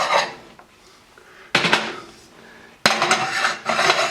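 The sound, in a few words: pan being swapped out on the stove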